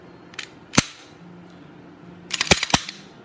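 A Glock 19 pistol slide is slid back onto the frame and latched, giving a few sharp metallic clicks and clacks: one loud snap early, then a quick cluster of three near the end.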